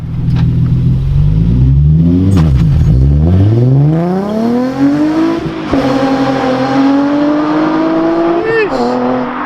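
A Nissan 350Z with an upgraded differential revs hard for a burnout, engine pitch sweeping up through loud, close acceleration with tire noise, while people shout nearby.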